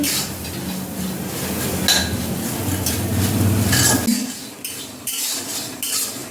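Metal spatula scraping and clinking against a pan as puffed rice and onion are tossed and fried, busy and close, then quieting near the end.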